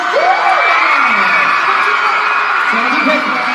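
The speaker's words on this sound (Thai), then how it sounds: "ขอเสียงปรบมือต้อนรับเพชรปริชญ์" An audience whoops and cheers to welcome a guest onto the stage at an AIS MEGA fan event. A loud, close voice carries over the crowd noise throughout.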